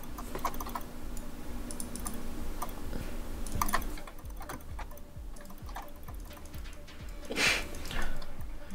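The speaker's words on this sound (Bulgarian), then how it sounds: "с клавиатурата ли играеш" Keys clatter on a computer keyboard during a League of Legends game session, light irregular taps close by over a background hum, with a few sharper clicks.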